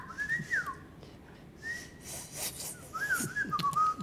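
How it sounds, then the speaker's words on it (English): A person whistles through their teeth in several short, wavering high tones separated by pauses. It is fairly faint, with breathy noise between the notes. "Whistle through your teeth as well."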